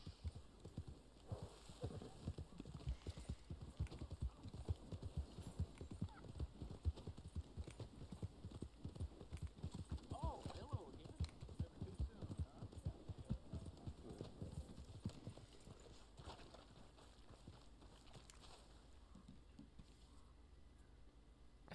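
A horse in the Red Dead Online video game clip-clops in a steady rapid rhythm of hooves for about fifteen seconds, faint and close, before fading into quiet background.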